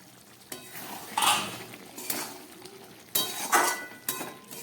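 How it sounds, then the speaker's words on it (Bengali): Metal lid set onto a cooking pot of poppy-seed and mustard drumstick curry, a few sharp clanks and scrapes spaced about a second apart, close and fairly loud. "চলুন ঢাকাটা দিয়ে দিচ্ছি"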